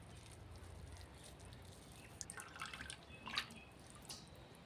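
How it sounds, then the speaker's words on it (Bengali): Water drips and trickles faintly from homemade paneer being squeezed in a cloth, scattered small splashes over a quiet background. "এবার আমি যত পারবো জলটাকে এরকম ভালো করে চিপকে নেব"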